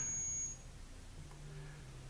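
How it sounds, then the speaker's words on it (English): A high electronic beep from an ohm meter shutting itself off on a workbench during a 1970s Drake AC4 power supply recap, one steady tone lasting about half a second, then quiet room hum. "That was my ohm meter turning itself off."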